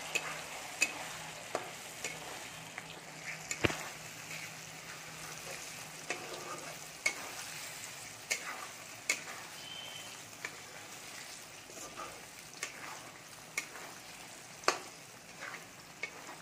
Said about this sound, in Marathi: मसाला चांगला तेलात भाजून घेऊयात.